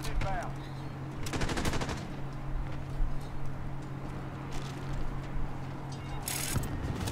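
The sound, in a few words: shotgun gunfire in the video game Modern Warfare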